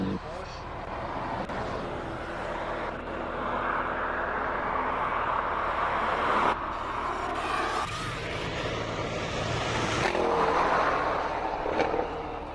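Porsche race car on a hillclimb course, engine droning and revving continuously at moderate distance with shifting pitch, under a commentator's voice.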